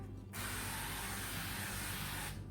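A single sustained hiss of cooking spray coats the inside of a pressure cooker before brisket goes in, a close, steady burst lasting about two seconds.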